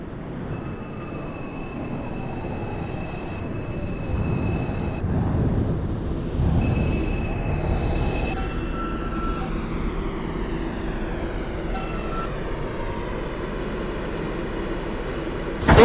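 A New York subway train in the OpenBVE train simulator runs steadily at 14th Street–Union Square with a low rumble and rising, whining motor tones, tones stepping up as it accelerates, fairly loud throughout.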